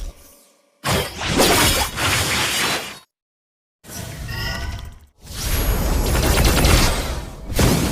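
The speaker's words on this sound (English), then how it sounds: "Our turret has been destroyed" A turret collapsing in the Mobile Legends video game, heard as loud, crashing, shattering bursts with a sharp whoosh, split by a brief silence and then a longer, dense crumbling blast.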